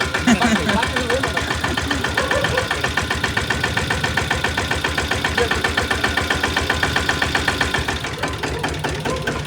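A small new tractor engine idles steadily with a rapid, even chugging knock throughout, loud and close, with voices briefly audible at the start.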